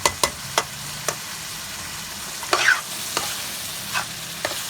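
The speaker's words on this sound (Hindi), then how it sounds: "अब दाल को अच्छे तरीके से हम मिक्स करेंगे इस मसाले में।" Chana dal is stirred into a frying spice masala over a flame, with sharp spoon scrapes and taps against the pan recurring every half second or so over a soft sizzle.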